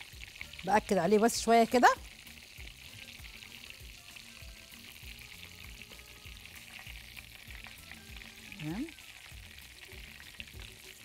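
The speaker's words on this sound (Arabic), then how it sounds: "واروح منزله في الزيت" Breaded chicken breast pané lowered into deep hot oil, giving a loud burst of frying crackle for a couple of seconds, then settling into a steady low sizzle, with a voice speaking briefly over it.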